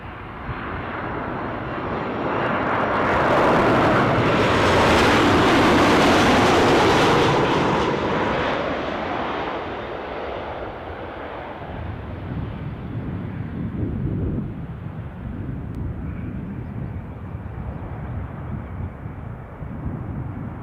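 An arriving airliner at Newcastle airport swells into a loud broad roar as it passes, then fades into a lower rumbling engine drone that lingers to the end.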